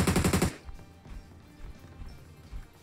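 A quick burst of automatic gunfire from a PUBG Mobile match rattles off in a loud, rapid string of shots, then cuts to quiet background noise.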